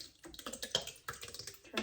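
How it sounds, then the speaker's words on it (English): Canned tomatoes pour into a soup pot of gluten-free sausage soup, making a short, near wet splashing and gurgling sound that lasts a couple of seconds. "we're going to pour our tomatoes in here"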